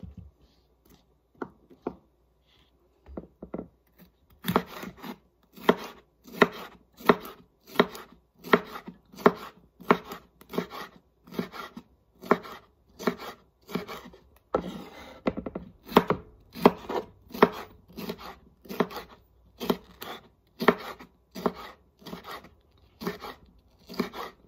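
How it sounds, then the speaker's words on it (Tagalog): A knife chops vegetables on a board with steady, crisp repeated strikes, sparse and hesitant at first and then settling into a fast, even rhythm that runs for about twenty seconds, close and clear with no talking. "Finally, nahiwa na lahat yung aking mga gulay dito."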